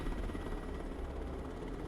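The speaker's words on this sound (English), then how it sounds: "we're going to be dropping off some PDSS here out of this helicopter" A military helicopter in the video game Broken Arrow drones with steady rotor chop and engine whine, loud and continuous at close range.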